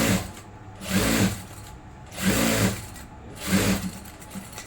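Sewing machine stitching kurti fabric in short repeated bursts, three loud runs of whirring stitches separated by brief pauses, close by with no talk.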